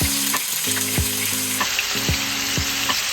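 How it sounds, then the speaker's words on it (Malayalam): Marinated chicken fries in hot oil with curry leaves, producing a loud, steady sizzle throughout. A repeating tonal pattern runs over the frying, and there is no speech. "മാരിനേറ്റ് ചെയ്ത് വെച്ച നമ്മുടെ ചിക്കൻ എടുത്തിട്ട് ഇതിലേക്ക് ഇടാം"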